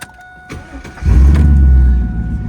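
A 2001 Pontiac Firebird Trans Am WS6 with its LS1 V8 cranks briefly and fires up, settling into a loud, deep, throaty rumble close by, with no one talking.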